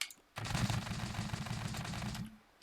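A gatling-style turret gun in the video game Scrap Mechanic fires one rapid, continuous burst of about two seconds, a fast rattling stream of shots that starts and stops abruptly.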